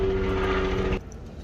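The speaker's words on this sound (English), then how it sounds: "Let me pause while the stupid helicopter flies by." A helicopter flies by outdoors near a container pond, a loud steady engine and rotor drone with a humming tone that drops away abruptly partway through.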